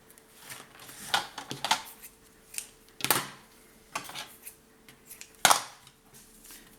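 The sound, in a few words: cutting two pieces of paper for scrapbook album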